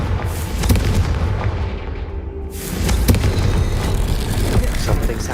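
The Confringo blasting spell goes off in Hogwarts Legacy with loud, heavy booming explosions that roll into one another, with a brief dip partway through and then a renewed blast under the game's dense ambient rumble.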